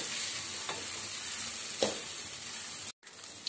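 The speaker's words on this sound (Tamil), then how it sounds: "மெல்லமாக சாதமும் உடையாமல் காய்ங்கள்லாம் அப்படியே கட் ஆகாமல் அப்படியே மெல்லமாக திருப்பி விட்டுக்குங்க." Cabbage and capsicum variety rice is gently stirred in a pan over a steady soft sizzle, with a couple of faint scraping strokes from the spoon.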